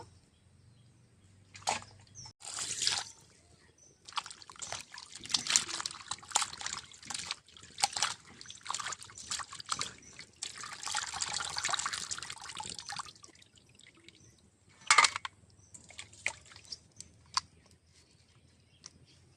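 Goat meat is washed by hand under running water, making intermittent splashing and trickling bursts with quiet pauses between them, heard up close.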